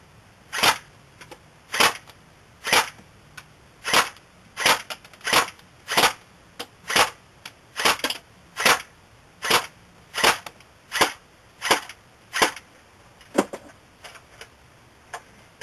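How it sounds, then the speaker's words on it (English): Airsoft MP7 gas gun with 12-gram gas firing on semi-automatic, about twenty sharp loud snapping shots at a steady, slightly uneven pace, each crisp crack followed by silence, no talk. "here's 10 to 20 shots on semi-automatic"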